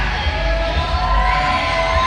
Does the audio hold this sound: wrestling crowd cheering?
yes